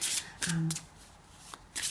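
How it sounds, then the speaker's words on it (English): A tarot deck is shuffled in short riffling bursts, close and crisp, with brief pauses between them and a faint voice-like tone in the middle. "let's give the cards a good shuffle"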